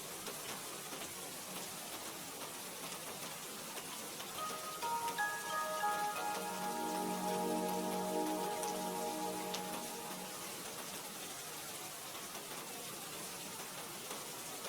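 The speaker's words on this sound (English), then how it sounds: "just the sound of rain against glass" Soft, steady rain patters against window glass, a continuous gentle hiss with no voices, joined midway by a faint tonal hum that fades again.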